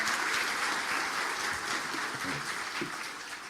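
An audience applauds a lecturer at a talk, steady sustained clapping from many hands that tapers off slightly at the end.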